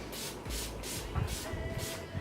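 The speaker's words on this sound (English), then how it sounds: "I'm going to finish off with some all-nighter Urban Decay setting spray" Urban Decay All Nighter setting spray misted from its pump bottle in a series of soft, airy hisses, about five short bursts spaced evenly and close up, with light handling noise underneath.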